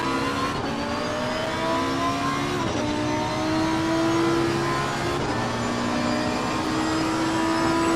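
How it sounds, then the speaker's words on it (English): Race cars in Assetto Corsa Competizione roar continuously in the autumn sunshine, several engines droning and shifting together with rising pitches and gear changes, loud and steady throughout with no talk. "So in the autumn sunshine, the cars race on their way."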